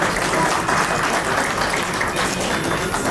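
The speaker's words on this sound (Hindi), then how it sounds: "तालियों से स्वागत करें श्री अशोक।" An audience at a retirement party claps to welcome a performer, a continuous, fairly loud wash of applause that stays steady throughout.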